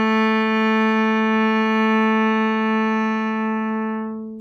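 One long, steady bowed cello note, smooth and even, holding at constant loudness before fading slightly at the end.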